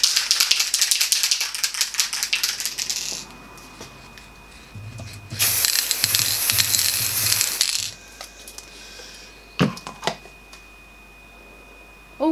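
A frosted glass spray paint can is shaken hard, the mixing ball rattling in fast loud bursts separated by pauses, then a few sharp knocks, close with no talking.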